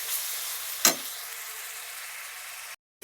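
Spices and chicken fry in a pan with a continuous close sizzle, broken by one short scraping stir and a brief silent gap near the end.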